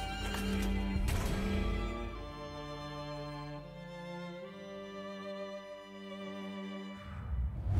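A horse in the video game Disciples: Liberation whinnies loudly in a long, falling neigh after a brief thump and hoof sound, followed by quieter snorting at the end.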